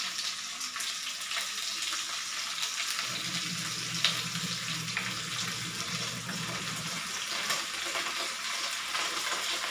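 Tofu and pork frying with oyster sauce in a pan, a steady broadband sizzle with soft scraping of stirring and a brief clink near the middle, moderately close and free of talk.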